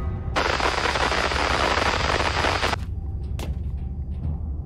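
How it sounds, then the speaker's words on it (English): Automatic defense turrets in Warhammer 40000: Inquisitor – Martyr unleash a dense, continuous burst of rapid gunfire for a few seconds. The fire cuts off abruptly, and a single sharp shot follows against a low rumbling background. "The turrets are attacking you."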